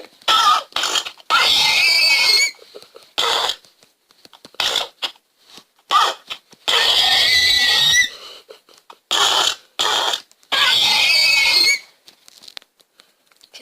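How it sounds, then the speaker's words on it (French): An animal in the Minecraft video game lets out harsh, squealing cries, loud and close, in repeated bursts of about a second with short gaps between them. "C'est des cris assez violents pour Minecraft."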